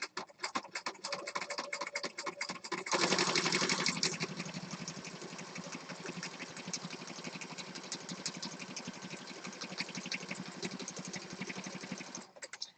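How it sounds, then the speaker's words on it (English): A regular home sewing machine runs a zigzag stitch with a standard needle and thread through junk journal pages, giving a steady, fast mechanical whirr that keeps going for about ten seconds with no talking. "I've got a regular sewing machine, regular needle, regular thread."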